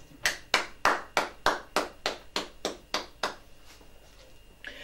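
A congregation at a prayer service claps in a steady rhythm of about ten loud, even hand claps, then the clapping stops and the room goes quiet.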